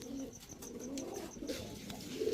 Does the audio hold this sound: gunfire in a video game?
no